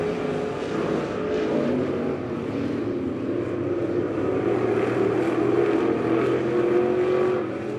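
Race cars roar around the turns of a dirt speedway oval during a heat race, a dense, continuous drone of several engines blending together at a distance, swelling slightly as the pack passes.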